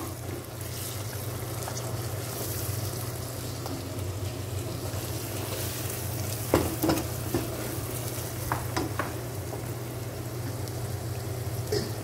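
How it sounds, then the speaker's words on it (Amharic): Garlic dropped into a pan of frying lentil stew gives a steady, moderate sizzle that runs throughout, with a few sharper clinks and stirring sounds partway through and no talking. "እና አሁን ትንሽ ነጭ ሽንኩርት ሊያስገባ ነው።"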